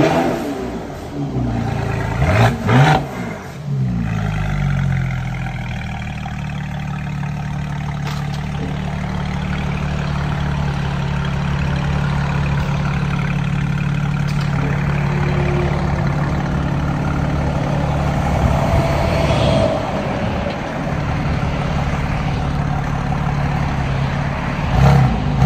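A 2019 Mercedes GLE 43 AMG with a bi-turbo V6, its muffler removed and a Meisterschaft axle-back exhaust fitted, gives a few sharp, loud revs early on, then settles into a deep steady idle drone.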